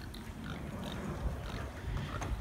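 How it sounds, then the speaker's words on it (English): Pigs at a zoo grunting and oinking faintly in a noisy outdoor enclosure, a few short snorts scattered over steady background rumble. "Oh, here's some pigs over here."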